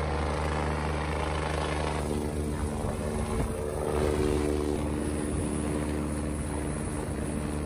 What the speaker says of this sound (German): Der Junge wurde dann direkt mit dem Helikopter abgeholt.